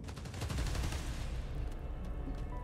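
Rapid gunfire from the video game Marvel's Spider-Man: Miles Morales, a dense continuous burst that is loudest early and then thins into a steady rumbling wash.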